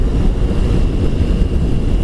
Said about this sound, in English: you can still hear the engine below me working, and then you can hear the exhaust note separately